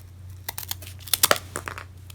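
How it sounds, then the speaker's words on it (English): Someone cuts a spacer down to size while building a life-size Fortnite pickaxe, making a quick series of close, crisp crinkling and tearing scrapes that peak briefly in the middle, with no talking. "set the spacer against the side and cut it down to size"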